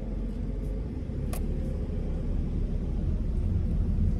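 A car pulling slowly up to a stop line during a Florida driving test, heard as a low, steady interior engine and road rumble, faint and continuous with no talk.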